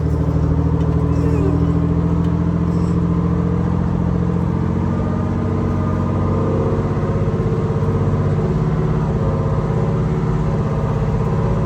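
A 1973 American LaFrance Pioneer fire truck's engine runs in a steady, loud, deep drone with a constant rumbling hum, heard from inside the cab and continuing throughout with no talking.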